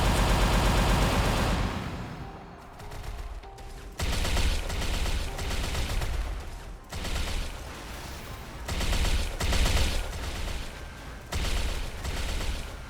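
Rapid game gunfire from a Corsair character's skills in MapleStory, dense volleys of bullets and booms firing almost continuously in loud bursts with brief gaps.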